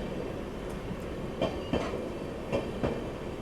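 Indore Intercity train accelerating past in heavy fog, with a steady low rumble and rhythmic clickety-clack of wheels over rail joints in several distinct beats, fairly close and with no talk.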